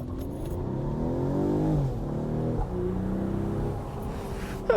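A Mercedes E450 Cabriolet with a nine-speed gearbox launches hard, its engine note climbing smoothly and steadily, loud and close throughout with no voices.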